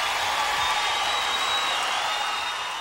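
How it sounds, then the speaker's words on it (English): A concert crowd roars with dense, steady applause and cheering that fills the whole stretch at an even level, without a break. "Listen to them cheer."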